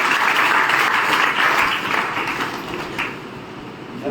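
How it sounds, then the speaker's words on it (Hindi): An audience at a college motivational seminar breaks into dense, steady applause. The clapping is loud at first and slowly fades over a few seconds. "जोरदार तालियों के साथ मैं उनको"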